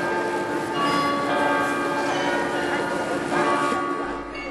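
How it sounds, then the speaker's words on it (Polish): Bells of the New Town Hall clock ring out over Marienplatz in Munich, sustained, overlapping metallic tones that ring steadily in the open square while a voice talks over them. "O ustalonych godzinach na zegarze ratusza uruchamiane są marionetki kuranta."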